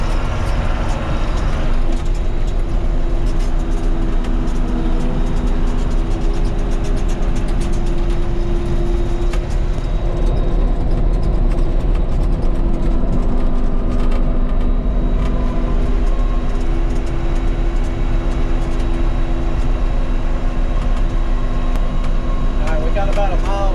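A John Deere 4420 combine travels along a road, its steady engine drone and rumbling drivetrain running continuously and close, with talk over the noise.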